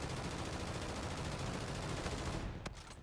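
Rapid automatic fire from the VPR gun in Infinite Warfare, a dense continuous burst of gunshots that cuts off near the end.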